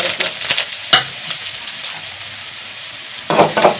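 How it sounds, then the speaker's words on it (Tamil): Onions with fennel seeds sizzle steadily in hot oil in a kadai while being stirred, with sharp scraping knocks from the spoon near the start and a louder burst of frying and stirring at the end. "வெங்காயம் கலக்கலாம்."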